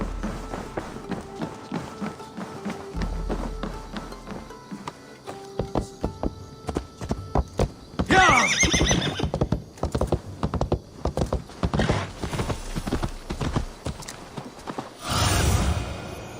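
Horse hooves clip-clopping in Assassin's Creed Valhalla, the Wrath of the Druids expansion, as a run of close, uneven hoofbeats with a few louder bursts of movement and no clear neigh.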